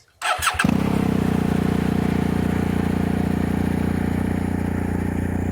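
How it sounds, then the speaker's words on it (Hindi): A BMW R1250 GSA motorcycle engine cranks briefly, fires up and settles into a steady, loud, close idle with an even lumpy pulse, no talking. "This is 1250 for you guys."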